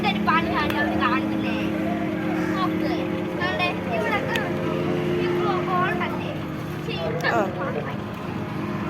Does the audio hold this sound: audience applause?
no